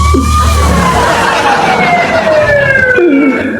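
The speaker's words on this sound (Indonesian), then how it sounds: "Setiap tanya Tuhan, sirine bunyi." Emergency siren wailing loud and close, a continuous descending tone that sweeps down and restarts near the end, with low background rumble and no speech.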